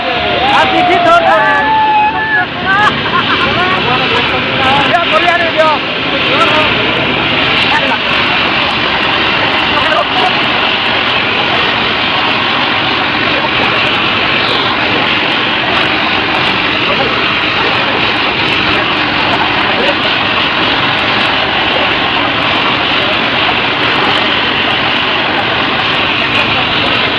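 A helicopter carrying the Chhattisgarh Chief Minister lands at Baloda. Its engine and rotor make a loud, steady roar with a high whine, and crowd babble sits faintly underneath throughout.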